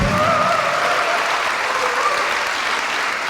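At a Poor People's Campaign tour rally in New Hampshire, a crowd applauds the testifiers with a loud, sustained wash of clapping throughout.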